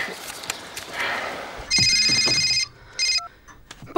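A mobile phone rings in a 2014 Russian crime drama, two loud electronic ringing bursts, the first longer and the second short, cutting in over quiet outdoor ambience with faint shuffling.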